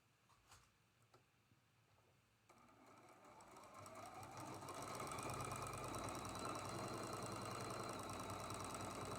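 A sewing machine stitches a quilt block seam, joining a black section during piecing of traditional quilt blocks. It begins soft and intermittent, then runs as a steady, increasingly loud motor whir with no talking.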